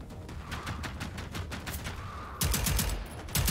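Sustained rapid gunfire in the video game Generation Zero, dense bursts of automatic shots that grow louder partway through, with no voices.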